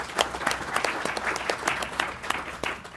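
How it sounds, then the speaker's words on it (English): Small group applauding a presenter at a programming meetup, sparse individual claps with a loose, uneven rhythm, fairly quiet and close. "Everybody, give a round of applause for Tom."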